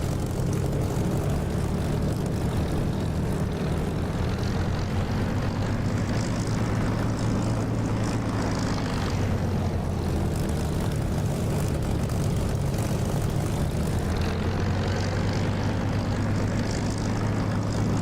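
Propeller bomber aircraft engines in the DCS flight simulator game drone steadily and continuously, a loud, even hum of several prop engines with slight swells as the formation passes.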